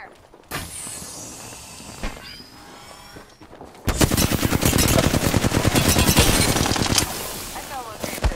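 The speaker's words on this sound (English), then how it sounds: "sitting on a hill shooting people" Rapid automatic gunfire from the battle-royale shooter Apex Legends, sparse shots at first, then a dense, loud, sustained burst of rattling fire with game sounds and some background chatter.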